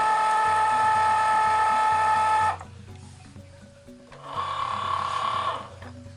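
Cricut cutting machine loading vinyl and then cutting it, giving a loud motorized whir, a short pause with a pulsing stepped mechanical rhythm beneath, then a second whirring pass.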